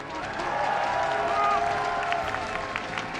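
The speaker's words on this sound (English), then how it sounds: "Give it up for Trap!" A live crowd at a StarCraft II Global Finals esports tournament applauds and cheers steadily in a large arena, a broad continuous roar of clapping under faint caster voices.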